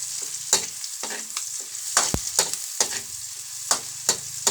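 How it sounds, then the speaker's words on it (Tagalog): Garlic frying in a pan makes a steady close sizzle, broken by sharp bursts and clatters as it is stirred. "Usually pagka nag-brown na yung bawang, pwede na natin siyang ilagay yung ating main dish."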